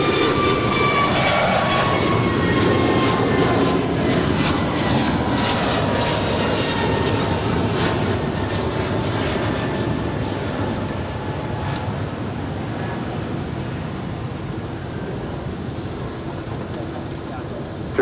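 A jet airliner takes off from runway 25 right at LAX, its engine roar loud and steady near the start and slowly fading and thinning as it climbs away, with faint radio chatter in the background.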